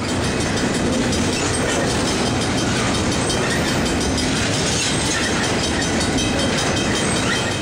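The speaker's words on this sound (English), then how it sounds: "an F45 leads an eastbound Santa Fe freight through town" An eastbound Santa Fe freight train led by an F45 diesel locomotive rolls through Tehachapi, a loud, steady roar of engine and rumbling wagons with continuous clickety-clack throughout.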